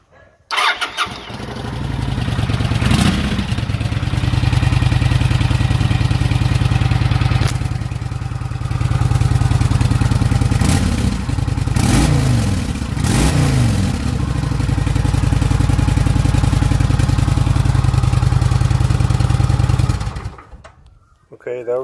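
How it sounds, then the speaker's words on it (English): A Kawasaki VN900 motorcycle starts and runs through its stock exhaust pipes, giving a deep, loud, steady idle that is broken by several sharp revs before the engine cuts off at the end. "The stock pipes before we start debaffling."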